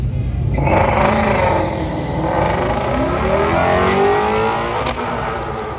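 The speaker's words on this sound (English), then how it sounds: "you can hear them wheel hop like that" A loud car engine roars and accelerates hard at a drag strip, with rapid stuttering pulses as the independent-rear-suspension Mustang's tires hop and chatter against the track. There is no speech.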